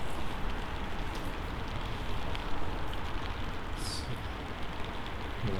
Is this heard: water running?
no